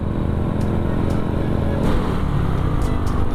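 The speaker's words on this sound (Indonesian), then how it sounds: "nggak bisa ini, pada muter balik nih motor-motornya ya" Motorcycles idle and move slowly on a flooded road, turning back in heavy traffic, a steady close engine drone with low rumble that carries on without pause.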